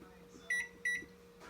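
An oven's electronic control panel gives two short, clear beeps in quick succession as it is switched on to preheat, set against a quiet kitchen background.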